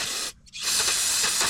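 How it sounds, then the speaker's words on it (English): Aerosol brake cleaner spraying in bursts down into an L5P diesel transmission housing during a thermostat plug job, a loud close hiss with a brief pause before the spray resumes steadily. "we're going to spray more brake clean down in there."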